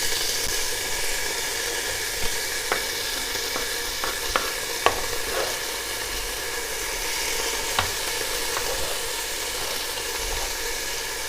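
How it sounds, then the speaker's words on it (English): Chopped green chilies sizzle steadily in a hot pan for a lentil curry, a constant close frying hiss with a few faint clicks of a spoon, and no talking. "it's beginning to sizzle"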